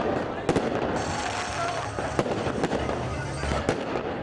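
Fireworks burst at an outdoor political celebration in Karachi, with sharp cracks and booms popping irregularly over a dense, noisy background of crowd and crackling.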